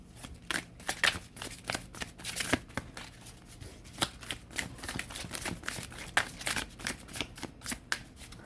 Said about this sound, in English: right now I'm just like shuffling just a little bit and clearing out the vibe and getting your cards about done